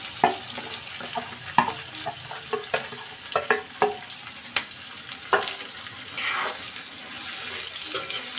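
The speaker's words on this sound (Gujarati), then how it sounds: "એટલે આપણે નાખી દઈશું અંદર કાંદા" Onions dropped into hot oil for chicken korma, a soft steady sizzle with intermittent clinks and scrapes of stirring, close and fairly quiet with no talking.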